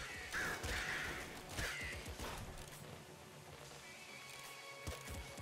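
Harsh caws from crows in the Nuclear Throne game, several raspy calls clustered in the first two seconds, then fainter scattered noises and thuds, no talking over them.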